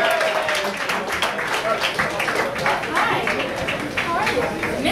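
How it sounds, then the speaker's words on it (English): At Cafe Diem's open mic anniversary night, the audience keeps up a thick, continuous round of applause, with chatter mixed into the sustained clapping. "please do give her a warm round of applause"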